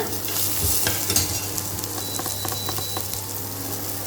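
Small onions frying in a pan are stirred a couple of times, with a steady close sizzle and light scraping strokes; no voices.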